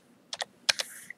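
Keys tapped on a computer keyboard while entering a terminal command: four quick, crisp keystrokes in two close pairs, followed by a fainter tap, nearby and clear against a quiet room.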